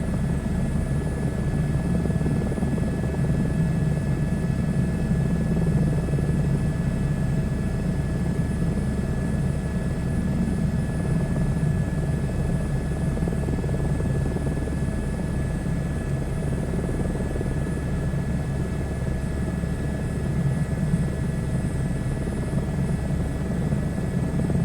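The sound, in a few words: aircraft flying from the airport over Toronto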